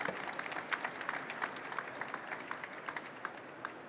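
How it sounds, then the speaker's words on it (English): Audience applause at an ocean policy panel event, a steady wash of clapping heard at moderate distance, with a few louder individual claps standing out through the few seconds. "So a big applause for Monica as well to be here."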